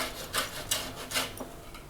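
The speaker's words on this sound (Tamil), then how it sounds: "இப்போ நம்ம இந்த ஆரஞ்சு தோலை வந்து நல்லா துருவி எடுத்துட்டோம்." Orange peel being grated on a metal carrot grater in a home kitchen, with four or five close, rasping scrapes in a steady back-and-forth rhythm and no talk.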